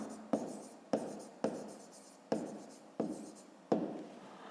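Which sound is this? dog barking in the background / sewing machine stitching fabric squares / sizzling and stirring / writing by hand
writing by hand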